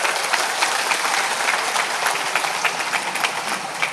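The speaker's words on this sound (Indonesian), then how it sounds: "Tepuk tangan untuk mereka" An audience at an Islamic religious sermon in Indonesia claps in a dense, sustained round of applause, loud and continuous throughout with no distinct voices on top.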